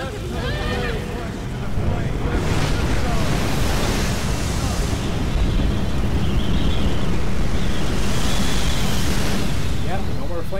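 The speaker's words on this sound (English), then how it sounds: "That was just a gust of wind, buddy." A gust of wind in the Tomb Raider video game, a broad rushing roar that swells and stays loud and steady for about ten seconds without speech.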